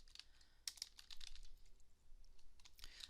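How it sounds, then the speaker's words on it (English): Quiet, close tapping on a computer keyboard comes in irregular bursts of clicks, with short pauses between runs of keystrokes and no voices. "If I can type it right today."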